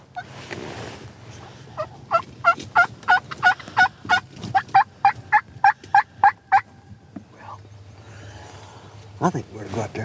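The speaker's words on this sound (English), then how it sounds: "The alarm putt means these birds are about to break." Wild turkeys in the field call in a rapid run of about sixteen sharp, evenly spaced putts and clucks, fairly near, ending before a low rustle and a few further calls.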